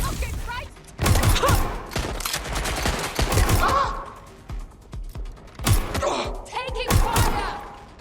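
Bursts of gunfire in Watch Dogs Legion, loud automatic volleys and single shots cracking in clusters with short gaps between, up close, mixed with thuds and shouting voices.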